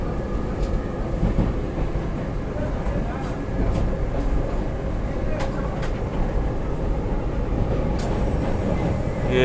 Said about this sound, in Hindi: अभी अपनी वंदे भारत एक्सप्रेस बस पहुँचने वाली है सरायघाट ब्रिज के ऊपर